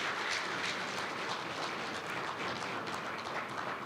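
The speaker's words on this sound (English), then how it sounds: "May we please give Comrade Emma Muteka another round of applause?" A round of applause for Comrade Emma Muteka at a public engagement event, with steady, dense clapping that holds at an even level for a few seconds without talk.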